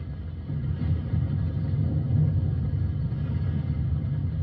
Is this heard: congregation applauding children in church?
no